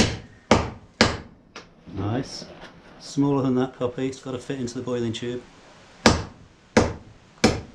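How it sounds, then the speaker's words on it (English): A hammer smashes a lump of limestone rock into small pieces, giving sharp, loud, separate strikes at the start and end, with people talking between the blows. "So to do that we're going to need to smash up this rock."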